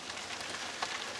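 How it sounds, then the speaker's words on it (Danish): Rain falls outside a wooden shelter as a dense, even hiss of drops, steady and moderately close, with no voices. "Det er lidt hyggeligt faktisk at sidde her i shelteret, når det regner."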